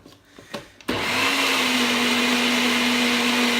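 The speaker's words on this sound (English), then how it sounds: "Now we're going to blend it upside down." A NutriBullet blender whirs on protein pancake batter with lemon, starting abruptly after a few soft knocks and then holding a loud, steady motor whine close by until the end.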